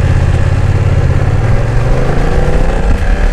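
BMW F900XR motorcycle pulling away from a standstill, its engine note rising steadily as it accelerates, loud and close with constant rumble and wind noise throughout.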